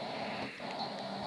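A dog in the Minecraft video game gives one brief, faint, low sound against a steady hiss, lasting barely over a second.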